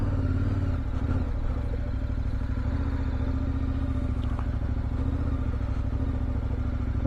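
A KTM 1190 Adventure motorcycle engine in off-road mode holds a steady, loud, close drone that spins up with a rising rev, and a light mechanical clatter runs through it.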